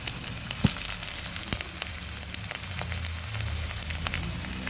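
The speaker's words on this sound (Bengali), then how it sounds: "আদা রসুনটা সুন্দরভাবে ভেজে নিচ্ছি।" Ginger and garlic paste frying in a pan, a continuous close crackling sizzle with a few sharp spatula taps, steady and unaccompanied by talk.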